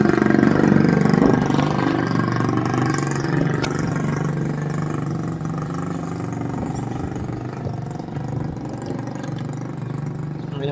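Motor tricycle passing on a road during a timberland bike ride, its mid-pitched engine loud and near at first, then droning steadily and fading slightly as it moves on.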